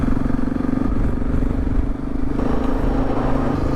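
Several motorcycles ride along a desert road in Iran, their engines giving a steady, continuous drone with loud wind buffeting throughout and no speech.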